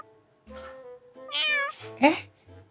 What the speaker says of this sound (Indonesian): suara anak ucing Jasmine